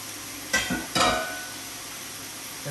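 Mushrooms and vegetables sautéing in a pot for pot roast: two quick stirring scrapes against the pot over a steady soft sizzle.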